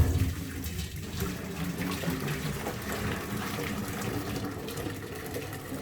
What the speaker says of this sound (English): So in goes the boiling water